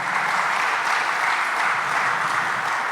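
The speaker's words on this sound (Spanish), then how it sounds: "Denle un fuerte aplauso al Señor." A church congregation claps loudly and continuously, a dense even wash of applause filling the room without a break.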